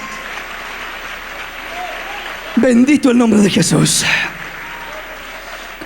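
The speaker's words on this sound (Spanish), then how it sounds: "dele palmas al Señor." A church congregation claps during a Spanish-language sermon, a steady wash of applause running the whole time, with a man's loud exclamation breaking over it midway before the clapping carries on alone.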